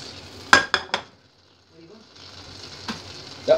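Vegetables frying in a hot pan, with a few sharp clinks of a utensil against the pan over a low sizzle, then quieter sizzling with another clink near the end.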